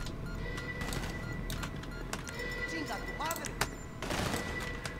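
Crossfire erupts in GTA5, with scattered gunshots crackling over steady game background noise, denser bursts near the end, while someone talks over the action.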